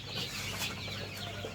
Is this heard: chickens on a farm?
yes